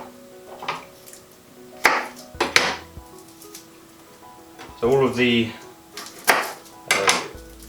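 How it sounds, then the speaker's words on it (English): A knife chops garlic on a cutting board in a home kitchen, giving a few separate, sharp cutting knocks spaced apart, with a person talking between them. "the next step, which is chopping the garlic"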